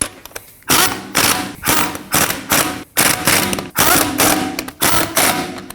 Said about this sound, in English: You can thread on the rest of the lug nuts. And we can snug those down in a star pattern.